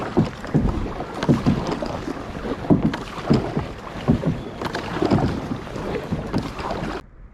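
A kayak is paddled through choppy sea off the Scottish east coast. Steady rhythmic paddle strokes splash and slosh under gusty wind buffeting the microphone, and the water noise stops abruptly at the end.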